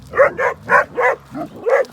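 A dog brought from Sivas gives six short, close, yelping barks mixed with whimpering in a quick, uneven series.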